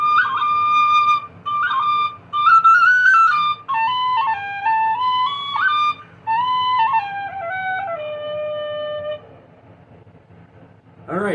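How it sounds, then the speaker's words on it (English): An Irish tin whistle plays a lively melody of clear, bright, breathy notes with quick ornaments, close and fairly loud, ending with a short pause. "that is my Irish tin whistle"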